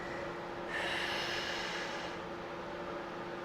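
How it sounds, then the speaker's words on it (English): During a beginner Pilates session, a slow, airy breath swells for a bit over a second and then fades, close and clear over a steady background hum. "Nice inhales and exhales."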